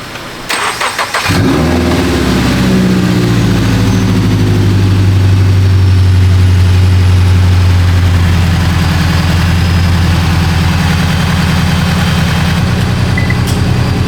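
Toyota GR86 fitted with a JDL turbo kit cranks briefly, fires up and settles into a steady, loud idle that runs on continuously, close by with no talk.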